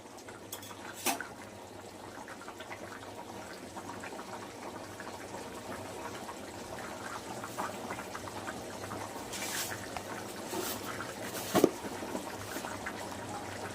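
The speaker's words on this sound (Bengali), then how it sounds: "দেখুন ফুটছে" A curry of taro and malabar spinach boiling in a pan gives a quiet, steady bubbling simmer, with a few faint clinks of utensils against the pan.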